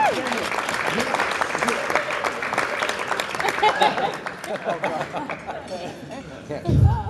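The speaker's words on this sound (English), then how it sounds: "big round of applause" A big round of applause from guests at an evening reception, dense steady clapping mixed with chatter and a few chuckles, with a low thump near the end.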